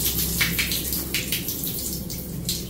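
Water being shaken out of a heavy object, irregular splashing and pouring bursts with spattering drips, fairly close and continuous, no voices.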